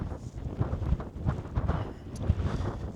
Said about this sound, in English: if you come here you can feel the wind pushing up